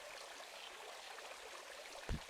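Quiet, steady flowing river water in the Little Witch in the Woods video game, a faint continuous wash with a single brief splash near the end.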